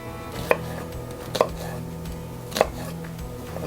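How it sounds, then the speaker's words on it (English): A kitchen knife coarse chopping onions on a cutting board for Hungarian pork goulash, with three separate sharp chops spaced out over a steady low background hum, close and clear. "And then we're just basically going to coarse chop these."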